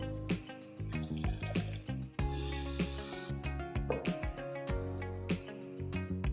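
Water pours into a pot of Kathiyawadi kali nu shak, a buttermilk-based curry, a close splashing stream with clinks and knocks of utensils around it, no talk.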